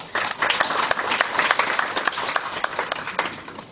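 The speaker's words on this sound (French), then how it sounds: "Je voudrais qu'on applaudisse une fois de plus." An indoor audience at a talk on Ivorian schools and entrepreneurial culture breaks into sustained applause, dense, many-handed clapping that stays loud throughout.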